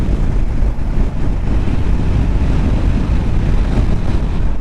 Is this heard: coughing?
no